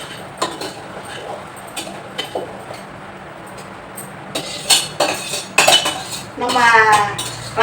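A spoon stirs salted kuthiraivali (barnyard millet) rice in a cooking pot, giving irregular metallic clinks and scrapes against the pot that grow busier and louder toward the end.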